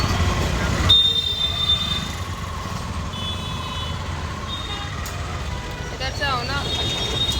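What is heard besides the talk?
heavy street traffic noise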